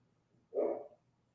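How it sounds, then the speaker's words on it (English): Dogs barking in a single short burst somewhere in a home, fairly close and moderately loud, with nobody talking. "If you guys hear my dogs"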